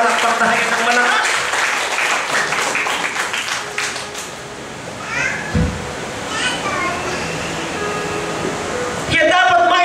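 Loud applause from a church congregation with children's voices and cheering mixed in, steady across the whole stretch, ending in a burst of louder clapping.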